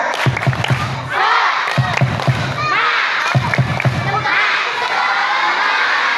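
Elementary schoolchildren in an Indonesian classroom perform the tepuk semangat clapping cheer, with bursts of rhythmic claps and loud, excited group shouting that swell into a sustained crowd roar.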